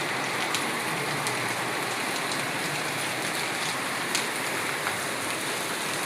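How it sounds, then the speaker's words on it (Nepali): Heavy rain pours down in a village, a loud, constant wash of drumming drops with occasional sharper splashes, steady throughout with no voices. "कस्तो पानी आएको होला कि छ्या, पुरै भल बग्ने पानी आएको है"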